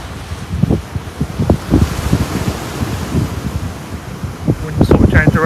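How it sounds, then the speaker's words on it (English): Strong wind gusting across the sea shore at Clacton, with rushing noise, breaking surf and microphone buffeting. Voices talk underneath throughout. "Wind sort of changed direction a little bit."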